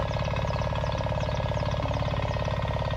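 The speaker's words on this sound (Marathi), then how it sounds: "तर बाबूचा ट्रॅक्टर होतोय" A farm tractor's engine idles nearby during sowing in the Konkan countryside, a steady low rumbling drone with even rhythmic pulsing that holds constant from start to finish with no talk.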